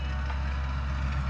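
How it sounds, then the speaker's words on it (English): A low, steady tractor engine drone rumbles continuously in the distance as it works farmland in the countryside, with a constant hum underneath and no voices. "My neighbor's up there on the tractor working the land."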